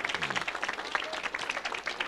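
A church congregation applauds in praise of the Lord, a dense and steady wash of many hands clapping close by, with voices mixed into the clatter throughout.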